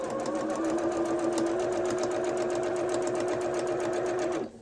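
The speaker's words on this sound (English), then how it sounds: "And you sew along that crease, and then you fold it back." A sewing machine stitches small quilt fabric pieces with a fast, steady mechanical whir and rapid needle ticking. It runs continuously and close by, then stops abruptly at the end.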